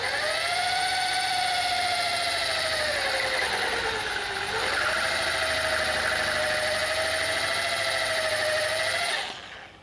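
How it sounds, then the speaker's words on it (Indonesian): A Hasston ART.3075 impact drill bores into iron at slow speed, giving a loud, steady whine with a sustained tone that dips briefly partway through before settling back, then cuts off at the end; no talking. "Untuk pengeboran besi saya biasanya speednya saya pakai agak pelan."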